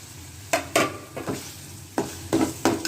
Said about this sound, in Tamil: இப்போ இஞ்சி பூண்டு பேஸ்ட்டு போட்டு வதங்கினதுக்கப்புறமா இந்த மண்ணீரல் போட்டிருக்காங்க.